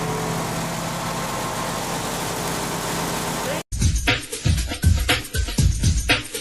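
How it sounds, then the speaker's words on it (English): A car engine idles after startup during speed-control adjustment, a steady, even drone for several seconds, then cuts abruptly into clattering mechanical noises and bumps. "After engine startup, it's necessary to adjust the idle volume again."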